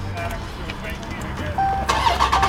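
A 2015 Dodge Challenger Scat Pack is push-button started and its engine catches partway through, rising into a loud, close rumble with people talking over it.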